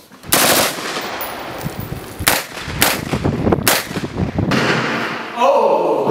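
Rapid machine gun bursts fire loud and close, several volleys separated by brief gaps, with a voice shouting near the end over the shots.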